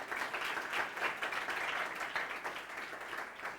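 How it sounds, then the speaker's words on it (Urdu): A church congregation applauds during a Sunday service, dense, steady clapping from many hands at a moderate distance, with no talking over it. "اگر جاگ رہے ہیں تو خداوند کو جا کے زوردار تالیاں بجا سکتے ہیں"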